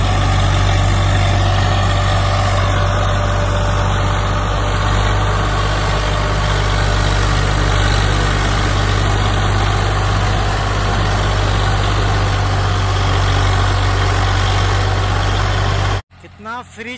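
A Swaraj 744 FE tractor pulling a trolley loaded with sacks of potatoes runs at about 1500–1600 rpm. The engine drones loud, close and steady for about sixteen seconds, then cuts off abruptly.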